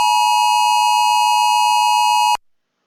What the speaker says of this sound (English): These alerts were coming fast and furious onto my phone.